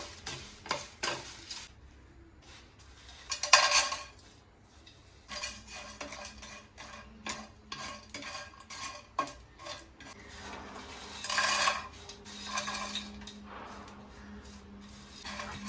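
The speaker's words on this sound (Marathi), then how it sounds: "आता आपण हे सगळं भाजून घेऊयात" Whole spices such as poppy seeds and nigella being dry roasted in a pan, stirred with a utensil that scrapes and clinks against the metal in irregular bursts over a faint crackle.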